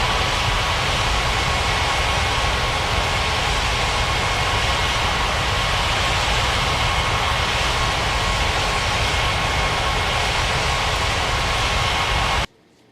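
An airliner taxiing in an air traffic control game gives off a loud, constant jet engine whine and roar, steady throughout before cutting off abruptly at the very end.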